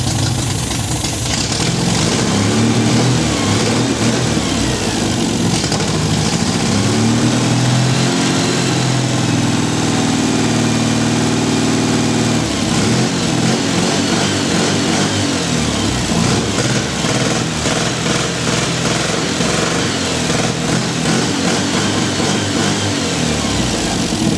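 An MGB car engine runs steadily and loudly for the whole stretch, a continuous dense roar with slight rises and falls in revs and no voices over it.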